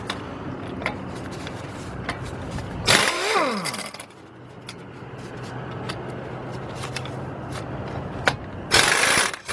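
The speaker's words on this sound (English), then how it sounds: "Let's get those 2 bolts off." Brake caliper bolts of 11/16 inch or 17 mm on the front hub of a 2003 Chevy Trailblazer are worked loose with a ratchet wrench, heard as brief clicking and ratcheting bursts over steady garage background hum.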